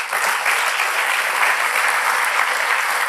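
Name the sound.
applause at a party council meeting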